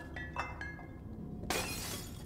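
Several faint glassy clinks and taps in Little Nightmares 2 lead into a sudden crash of glass shattering, its bright crackling spray lingering for a moment.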